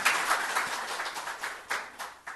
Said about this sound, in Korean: 환영의 박수를 한번 치겠습니다